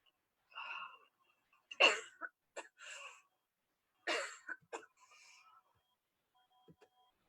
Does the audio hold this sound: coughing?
yes